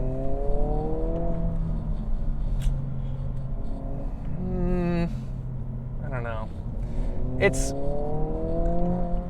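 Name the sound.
sports car engine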